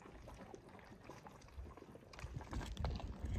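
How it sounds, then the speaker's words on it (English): Hot pools bubble and gurgle in the Danakil Depression, Ethiopia, a soft, irregular liquid burbling nearby that grows louder and busier toward the end, with no voices. "There's also bubbling."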